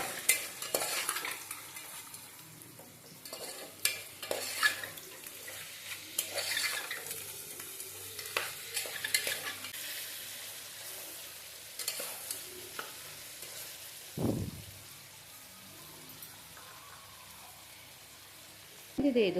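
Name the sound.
stirring village-style chicken sambar with rock salt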